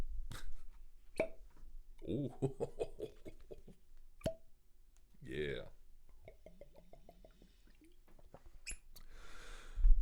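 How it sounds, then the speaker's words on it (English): A person sipping water at close range: small wet slurps, soft gulps and breaths separated by pauses, with a brief spoken murmur in between. "I'm going to take a sip of water."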